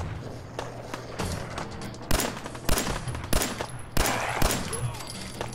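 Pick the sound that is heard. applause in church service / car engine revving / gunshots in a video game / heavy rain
gunshots in a video game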